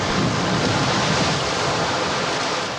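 Huge storm waves pound the coast and break down seawalls under battering gale-force winds, a loud, continuous roar of surf and wind with no pauses.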